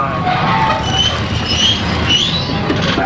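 A train running on rails toward a level crossing where a lorry is stuck, in Poland, makes a loud, steady rumbling roar with faint high squeals over about three seconds and no clear talking.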